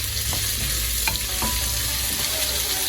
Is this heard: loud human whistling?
no